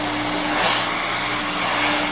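A blow dryer set to medium heat runs steadily during a silk press on a client's hair, a loud, continuous whooshing hum with a faint tonal whine and no talk.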